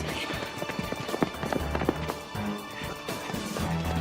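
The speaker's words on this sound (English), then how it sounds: "Get those horses!" Horses gallop on an open-air period town set, with a rapid, uneven patter of hoof clip-clops and thuds at moderate distance.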